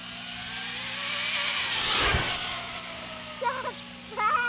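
A Traxxas Slash 4X4 RC car running on a 3S battery accelerates past with a high electric whine that builds and peaks mid-clip before fading, followed by brief squealing bursts.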